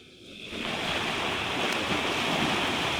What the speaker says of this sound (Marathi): आता इथे एक मस्त पाऊस पडतोय, ओढा चालू आहे इकडे